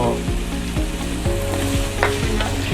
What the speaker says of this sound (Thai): เรารวนเนื้อได้แล้วก็เอาแค่พอ